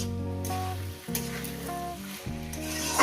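A banana-flower and fish-head chorchori cooks in a pan with a steady, close sizzle, while sustained musical tones play underneath.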